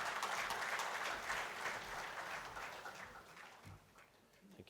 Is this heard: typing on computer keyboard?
no